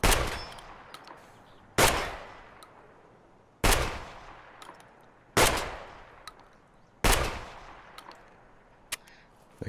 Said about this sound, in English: I'm going to fire a few rounds here